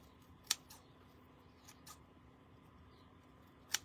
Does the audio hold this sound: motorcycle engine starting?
no